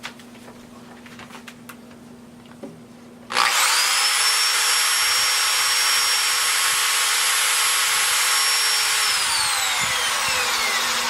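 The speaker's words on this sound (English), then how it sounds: "We have powered up the same premises branch circuit, an electric drill." After a few seconds of low background hum, an electric drill with a brushed universal motor starts abruptly and runs at a steady high whine, loud and close, then begins to wind down.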